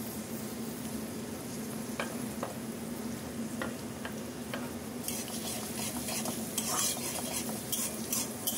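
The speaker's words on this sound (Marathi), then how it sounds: "त्यामध्ये मी कांदा घालून घेतला आणि कांदा सुद्धा छान परतवून घेतला" Chopped onion and crushed garlic sauté in a pan for a prawn rice dish, a steady soft sizzle with a spoon stirring and scraping throughout, brighter clinks of utensil on metal in the later half, close and without talk.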